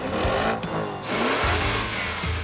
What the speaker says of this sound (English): The engines are incredibly powerful, and they sound really good too.